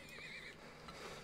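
A horse in a video game about drilling and selling oil gives a short, faint whinny that rises and wavers before fading out, with no voices.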